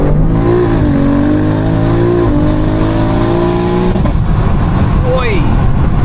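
A tuned 1400bhp BMW M3 Touring engine revs hard from inside the car, a loud, rising growl with a sharp gear-change dip before the revs settle, while occupants talk over it.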